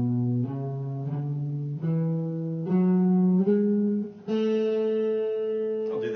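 A guitar picks its way up a major scale in F, one note at a time at a steady, unhurried pace, each note clear and ringing, the last one held longer, with no talking over it.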